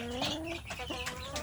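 Village chicken chicks in a plywood rearing box with a wire-mesh top, giving a few short clucks and cheeps close by over a soft background hum, with no talking.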